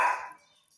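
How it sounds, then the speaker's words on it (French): Pinka, a small dog, lets out a single sharp bark that quickly trails off, close and fairly loud, alone with no talk. "c'est mon petit chien Pinka que vous entendez, qui a entendu des enfants crier"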